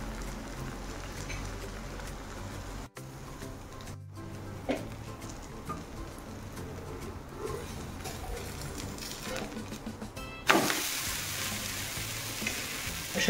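A wheat flour snack fries in oil on a pan with a steady, soft sizzle and occasional stirring or scraping, before a sudden louder burst of sizzling near the end.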